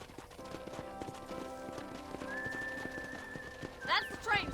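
In the video game Red Dead Redemption, steady clip-clop of horse hooves at a trot, moderately loud, with a brief whinny and whistling toward the end.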